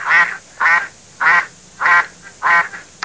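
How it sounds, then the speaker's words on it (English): A duck quacks five times in an even, steady rhythm, each call loud, close and nasal, with short quiet gaps between them and no voices. "It's a duck."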